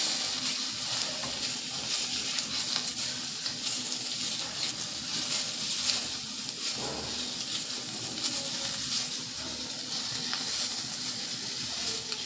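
Oats and vegetables frying in a pan make a soft, continuous hissing sizzle at moderate volume, steady and close with no talk.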